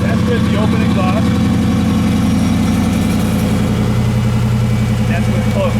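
Steady, muffled idle of a 500 hp Hemi V8 in a Jeep JK with closed exhaust, a low, even throb, quieter and smoother than open exhaust, continuing without revving while someone speaks over it.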